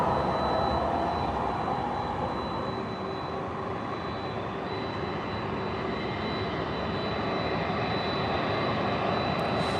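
Airplane taking off or landing at San Diego Airport at sunrise, a continuous loud jet engine roar holding steady across the whole span.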